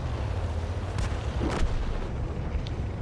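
Artillery shells land around a tank in a World War II tank combat game featuring an M4A3E8 Sherman, heavy booming impacts over a constant low engine rumble, with a couple of sharper blasts.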